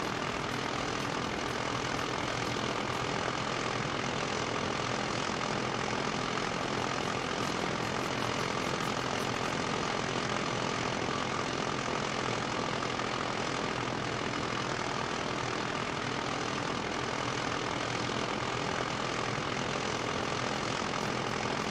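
The engine of a vehicle in the video game Eco drones loudly and continuously, a steady propeller-like hum that stays constant throughout with no speech.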